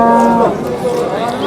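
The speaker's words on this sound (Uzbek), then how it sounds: "Chiroyli sigir ekan." A cow at a busy livestock market in Piskent gives one loud, close, drawn-out moo that bends and fades, with crowd noise and talk behind it.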